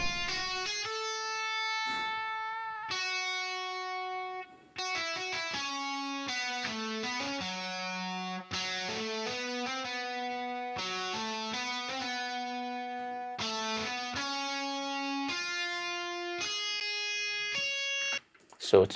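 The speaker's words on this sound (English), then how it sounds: "I got this guitar sound from Contact, and it sounds like this soloed." A MIDI guitar patch from Kontakt plays a solo melody on its own, sustained singing notes with bends and runs, close and steady, replicating a guitar solo for a song remake.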